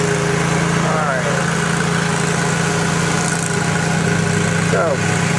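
A lawn mower engine runs steadily nearby, a constant loud drone with a low hum underneath, and brief whining sweeps pass over it twice.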